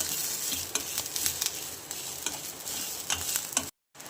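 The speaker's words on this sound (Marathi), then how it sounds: "थोडा लसण पण याच्यासोबतच भाजून घेणार." Garlic and whole spices dry-roasting in a pan, a soft crackling sizzle with repeated stirring scrapes, near and fairly quiet, broken by a brief dropout near the end.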